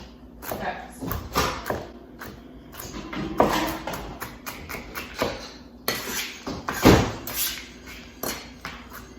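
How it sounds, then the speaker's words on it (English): A knife roughly chops ingredients for a vegan German chocolate cake on a board, a close, irregular run of thuds and taps mixed with handling noise. "I'm just really roughly chopping these."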